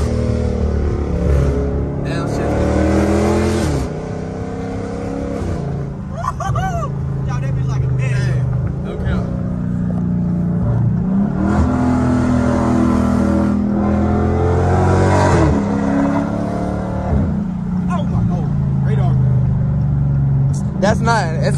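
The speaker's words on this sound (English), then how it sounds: "Bro, I didn't know my car was that loud, bro." A 1000hp Dodge Hellcat engine revs and accelerates hard in repeated loud surges and swoops, heard from inside the car while people talk excitedly over it.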